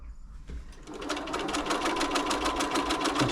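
A Bernina B325 sewing machine being serviced starts up after a click and settles into a fast, steady rhythmic stitching whir, close and clear, running to the end.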